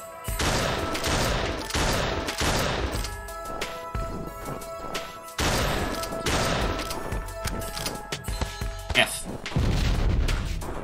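Grenade explosions in a shooter video game, a series of loud crashing blasts and gunfire bursts one after another, with dense noisy booms filling the whole stretch and a voice talking at times.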